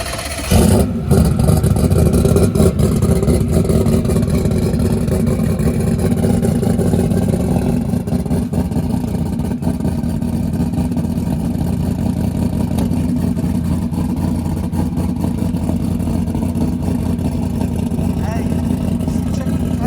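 A Ford Coyote engine with a 107mm turbo runs loud and steady after a quick start, a sustained roar with a slight early swell, then a constant drone throughout.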